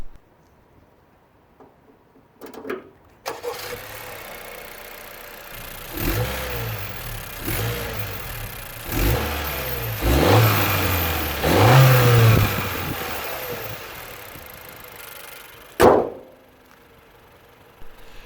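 A Honda Civic's 1.5-litre VTEC turbo petrol engine starts, idles, then revs up through several rising surges before cutting off abruptly, heard up close with no talking.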